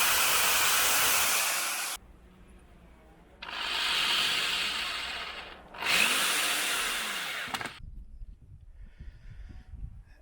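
A power drill boring holes into wood while a chicken coop frame is built, whining in three loud sustained bursts separated by short pauses, close up and with no talking.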